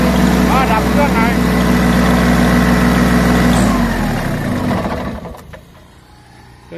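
Isuzu three-cylinder diesel engine on a Sakai road roller with steel front drum and rubber rear tyres, running loud and close with a steady idle, then winding down and fading to near quiet.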